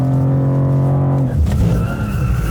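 A 2023 BMW M2 drifting on a track gives a loud, sustained tire squeal that holds steady, then breaks into rougher scrubbing and engine roar midway.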